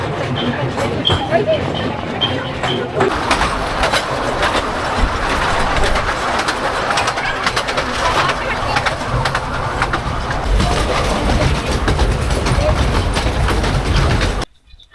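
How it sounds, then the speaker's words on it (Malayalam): Loud, continuous rumble and rattling of a moving train close up in Mumbai, with a few faint bird calls at the start before it cuts off. "ഞങ്ങളുടെ വണ്ടി ട്രെയിൻ പോവാണ്. പോയി തുടങ്ങി. കടകടേ പോകണം."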